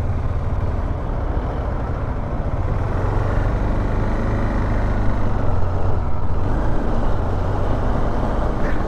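Steady road traffic with cars and trucks rumbling past on a busy route near Ooty, a continuous loud engine drone with no talk over it.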